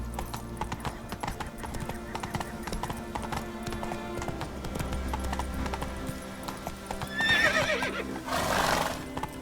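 The horse Roach from The Witcher 3 clip-clops in a steady hoofbeat rhythm, then gives a loud neigh near the end, with game music and effects underneath.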